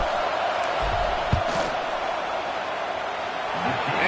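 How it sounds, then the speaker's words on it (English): A packed stadium crowd in a college football video game roars steadily and loudly through a field goal attempt, a constant wash of noise with no clear breaks. "This crowd trying to do its part to get inside the kicker's head."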